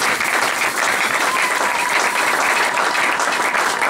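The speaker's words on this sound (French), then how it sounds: "nous allons acclamer très fort pour la gloire de Dieu." Dense, steady applause from a large church congregation, loud and continuous throughout with no pauses.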